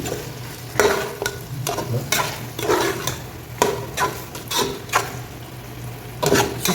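A spoon scrapes and stirs egg and potato gravy in a pan, giving repeated irregular scraping strokes over a soft, continuous sizzle, close and fairly loud.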